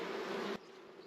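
Honeybees buzz around an opened hive during a check for a virgin queen, a steady close insect drone that drops abruptly to a quieter hum about halfway through.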